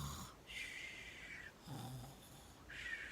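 An adult voice imitates snoring, making three drawn-out rasping breaths with pauses between them, close and soft, with no other talk.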